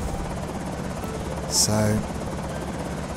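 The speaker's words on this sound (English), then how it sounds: "See, I knew the helicopter was due in" A helicopter flying overhead in the video game Project Zomboid, heard as a continuous buzzing rotor drone under a man's speech, with a brief louder swell partway through.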